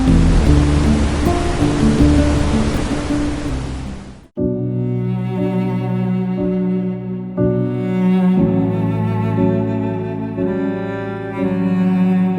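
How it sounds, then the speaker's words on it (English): A waterfall in Iceland, among basalt columns in misty weather, gives a loud, dense, steady roar for about four seconds. Then it cuts abruptly to calm tonal music. "This whole place felt like a fairy tale with basalt columns, misty weather, and roaring sound of the waterfall."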